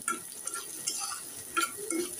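Onions frying in a pan for a tomato mash, a quiet continuous sizzle close by with intermittent scraping and stirring clinks from a spatula.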